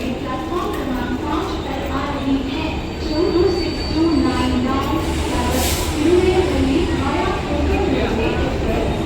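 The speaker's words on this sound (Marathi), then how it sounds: "मित्रांनो आपली ट्रेन आलेली आहे" A train rolls in with a steady low rumble and rhythmic clanking of wheels, while people talk nearby over the station noise.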